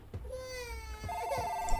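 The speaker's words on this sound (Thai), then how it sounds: "มีโทรศัพท์มา" A telephone bell rings in a steady repeating tone indoors, clear and moderately loud, with a voice briefly heard beforehand.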